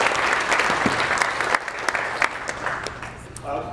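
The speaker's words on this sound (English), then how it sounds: "Give them a round of applause." Audience at the Industrial Inbound Summit gives a sustained round of applause, dense and steady clapping from a large crowd filling the room throughout, tapering slightly near the end.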